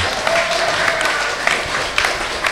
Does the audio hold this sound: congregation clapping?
yes